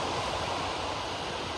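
Ocean waves wash onto Vanderbilt Beach in Naples as a soft, continuous broadband rush of surf, steady and moderately distant, with no voices.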